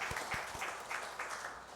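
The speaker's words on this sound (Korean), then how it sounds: "함께 박수하겠습니다." A church congregation claps for members' birthdays during a Sunday service: a brief, fairly faint patter of applause from many hands in a room.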